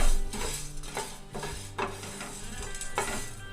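Whole cloves and peppercorns dry-roasting and being stirred in a pan, with close scraping and rattling strokes repeating every half second or so over a faint sizzle, no talk.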